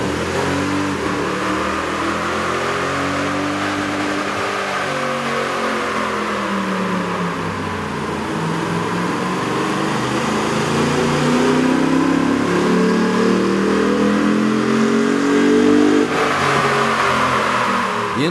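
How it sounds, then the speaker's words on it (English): Toyota Tundra 4.6L engine fitted with an aftermarket air intake, running on a dyno with a loud continuous roar that swells and builds as the revs climb, heard alone without voices. "we ran the vehicle on the dyno to test the sound comparison versus the stock intake"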